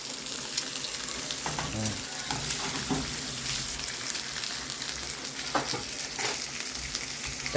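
Salami slices fry in a pan with a dense, steady sizzle and scattered crackles and clinks close by, with no voices.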